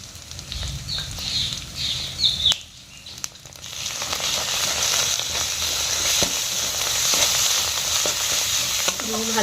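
Spice masala with cumin, turmeric and Kashmiri chili powder frying in a pan for Rui fish kalia, a loud close continuous sizzle with stirring scrapes, briefly dipping before rising again.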